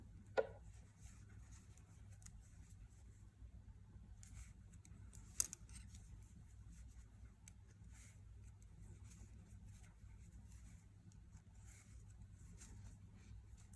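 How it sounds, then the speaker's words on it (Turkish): Scissors snip through the knitted ribbing of a hand-knit pocket, giving two sharp, quiet cuts spaced several seconds apart over a low, steady background hum. "Lastikli olan tüm bölümü kesiyorum."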